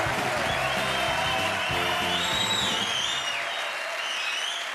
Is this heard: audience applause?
yes